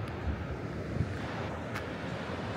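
Steady broadband wind and distant surf rolling at Udaipur New sea beach during monsoon, the water far off; a continuous rushing roar with slight swells, no voices.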